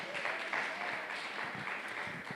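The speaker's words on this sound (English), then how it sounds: "Please give Dr. Randall Urban a round of applause." Conference audience applauding a doctor's introduction, a dense, even patter of many hands at moderate distance, sustained throughout without a break.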